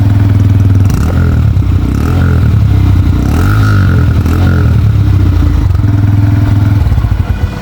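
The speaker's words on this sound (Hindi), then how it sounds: "तो बाइक स्टार्ट करने के बाद अब देखो आप साउंड सुनो।" Honda Hornet CB125 motorcycle engine running after a start, a loud close exhaust idle with a steady low rumble and a few brief blips of revving partway through, no talking.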